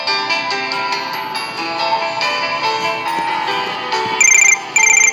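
An electronic phone ringtone plays twice near the end over background music on a radio call-in show, short bright repeating trills.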